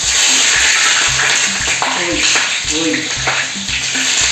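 Eggplant sizzling loudly in hot oil in a pan, a dense steady fry close by, with rhythmic low thumps and a brief voice exclamation over it.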